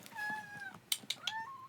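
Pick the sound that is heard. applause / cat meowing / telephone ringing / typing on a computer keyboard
cat meowing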